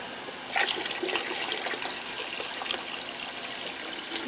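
Water gushing steadily into a large water bath canning pot, starting abruptly and holding a full, rushing flow nearby.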